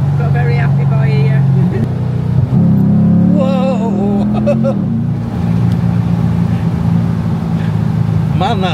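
Chevrolet Camaro engine at a supercar show ride, a loud steady low drone that climbs in pitch as it accelerates, with people talking and exclaiming over it.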